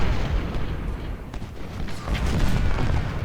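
Howitzer artillery fire in the Ultimate General: Civil War video game, a dense, continuous rumble of booms and blasts with a voice talking over it.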